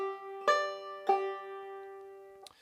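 Two clean plucked banjo notes from a Lonesome Road Blues lick ring out and sustain in quarter-note time, followed by a faint short pluck at the end, played close up and solo.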